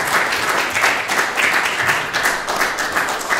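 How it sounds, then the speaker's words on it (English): A room full of people applauding, loud and continuous clapping with uneven surges, no talking over it. "Can we give her another round of applause?"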